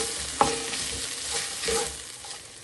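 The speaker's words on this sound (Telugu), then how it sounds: "ఇప్పుడు దాంట్లో గరం మసాలాను కలిపి" Garam masala being stirred into a frying onion-and-spice masala for bagara rice: a steady sizzle in the pan, with a sharp utensil scrape and a few scraping stirs, close and without talk.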